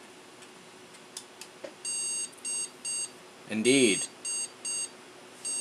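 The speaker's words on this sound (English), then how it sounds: "one continuous beep and two short beeps with a pause, and then it keeps repeating" A computer motherboard's POST beep code: one long tone followed by two short beeps in a repeating sequence, with a brief spoken word over the middle.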